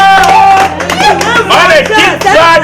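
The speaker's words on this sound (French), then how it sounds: "Est-ce qu'on peut applaudir pour le DP?" Audience clapping and cheering for a guest who travelled from Yaoundé, with brief whoops and voices mixed through a short, lively burst of applause.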